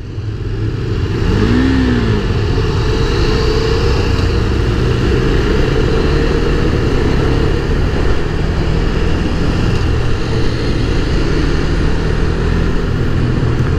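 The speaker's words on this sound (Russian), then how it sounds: "О, я услышал, как двигатель работает. Прум-прум-прум, прям вот так." A 2018 KTM 390 Duke motorcycle engine running steadily, a continuous mid-pitched drone held at constant loudness for several seconds with a brief higher whine near the start, no voices over it.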